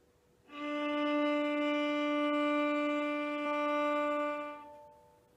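A single bowed string note played with little arm weight, lighter and softer, sustained for about four seconds with a slight swell near the end, then stopping, heard alone over faint room noise.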